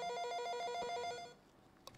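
Telephone ringing for an incoming call on a live broadcast, a rapid trilling electronic ring that pulses for about a second before stopping, followed by a faint click.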